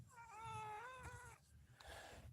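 A sick cat with a respiratory illness gives a long, strained, wavering meow close by, rough and congested in tone, then trails off into a breathy, hoarse rasp.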